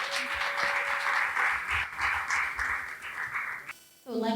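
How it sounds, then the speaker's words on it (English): Audience applause for a guest speaker at a music business fireside chat, a dense steady clapping crowd lasting about four seconds, then fading out as a voice begins. "Let's give her a round of applause."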